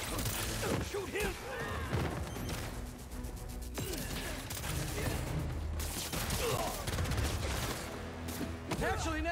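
Gunfire rattles in the Marvel's Spider-Man 2 video game as bursts of shots and crashes mix with game music and character voices talking throughout.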